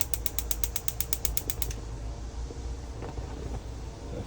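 A gas hob burner igniter in a Bessacarr 745 caravan, giving a rapid train of sharp ticking clicks for under two seconds before stopping, then a faint low hiss and quiet handling noises.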